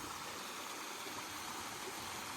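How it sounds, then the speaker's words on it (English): Shallow stream flowing through a clough in the Peak District, a steady broadband rush of running water with small waterfalls, continuous and fairly soft, with no voices. "I've just walked back along the stream a little bit to take in some of the waterfalls"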